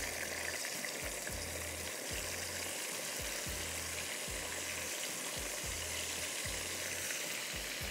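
Onion frying in a pan for a creamy Cajun pasta on a TV cooking show, a dense continuous sizzle with a steady rhythmic stirring or scraping pulse underneath, close and loud, with a single brief spoken word.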